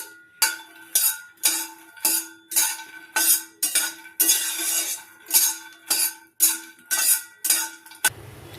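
Makhana (fox nuts) roasting in a dry pan, rattling and scraping in about a dozen regular strokes, each a bright burst with short pauses between, close and fairly loud.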